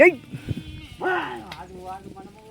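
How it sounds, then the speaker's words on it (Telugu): Goats on a dairy farm let out two short, wavering bleats close by, one at the start and another a second later, with a voice talking around them. "ఎన్నినాయి చూడండి మేకలు"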